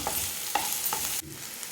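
Onion, ginger and garlic sautéing in hot oil for a South Indian kuzhambu, a dense close sizzle with three or four soft stirring scrapes before the frying suddenly quietens, no talk.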